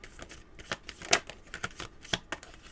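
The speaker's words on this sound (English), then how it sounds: "Let me shuffle these a little more." Tarot cards shuffled by hand: quick, soft riffling bursts and light flicks, close and quiet, in an irregular rhythm of a few shuffles.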